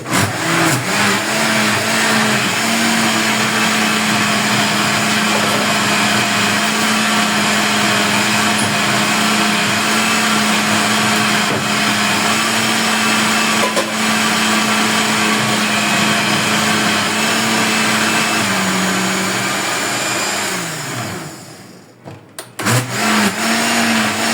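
A blender purées taro greens at full speed, giving a loud, steady motor whine and churning roar for about twenty seconds before winding down and stopping, then a few brief clunks, with no talking.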